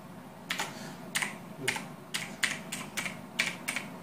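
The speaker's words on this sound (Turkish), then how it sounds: "klavyemiz tamamen mekanik bir klavyedir" Keys clatter on a backlit mechanical keyboard in a slow, uneven rhythm of crisp, close clicks, about ten strokes with short pauses, and no voice.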